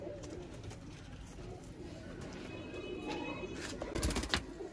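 A pair of Sialkoti pigeons coos softly in a loft, low rolling calls repeating against faint background noise and a few brief rustles and knocks near the end.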